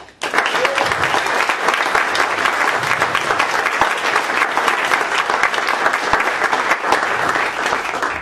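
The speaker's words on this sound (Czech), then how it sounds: "tak mu pojďte zatleskat" An audience at a Prague Music City concert recording bursts into sustained, even applause, loud dense clapping that holds steady for several seconds.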